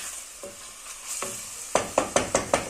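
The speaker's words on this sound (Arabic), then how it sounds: "خليوها تتقلى لهنا مع البصل." Tripe frying with onion, red and black pepper, spice and turmeric, a soft sizzle broken by about six sharp, evenly spaced stirring scrapes.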